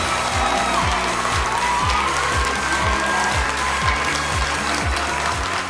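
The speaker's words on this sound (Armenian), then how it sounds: "Ապրես շատ, բարձր ծափարություններով ճանապարհենք։" A talent show audience claps loudly and continuously, a dense, steady wash of applause filling the hall from start to finish.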